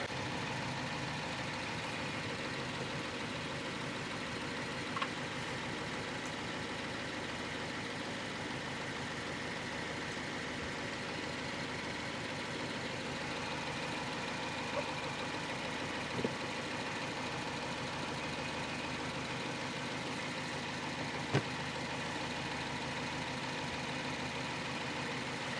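A Subaru engine with a TR580 CVT idles steadily in a quiet garage while transmission fluid is added, a soft even hum with a few faint clicks and taps from work nearby.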